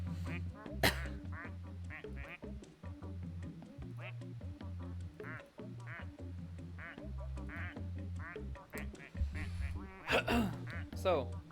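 Rubber duck quacks in the Placid Plastic Duck video game sound over game music, with several short honking quacks scattered among a talking voice.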